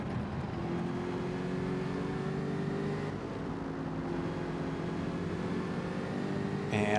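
Several V8 Gr.4 race cars in Gran Turismo drone along together in a steady, continuous engine roar with sustained harmonic tones, a slight dip midway and a brief louder swell at the end.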